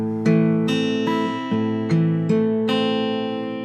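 Fingerpicked guitar plays the opening measure of a song: about six slow, evenly spaced plucked notes that ring into one another, close and clear, with no voices.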